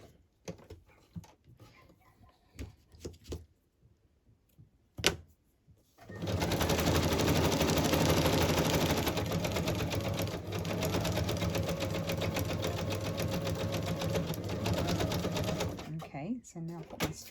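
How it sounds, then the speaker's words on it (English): Sewing machine zigzag stitching around a fabric tag shape for an embellishment cluster: a few scattered clicks and handling sounds, then a loud steady whirring run for about ten seconds before stopping. "So I'm going to zigzag around the tag shape"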